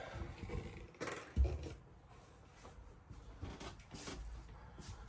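A cabinet door opens in a 2022 Lance 1995 travel trailer, a soft thump and brief knock up close among quiet handling noises, faint and alone.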